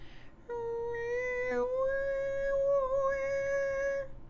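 A voice hums a long, wavering, mournful tone imitating a sad violin melody, sustained with slight pitch bends, close and alone.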